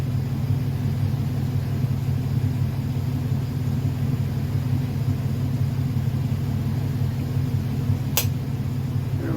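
A 1931 Ford Model A engine idles in a steady, low rumbling drone that holds an even pace throughout, with a brief sharp click near the end.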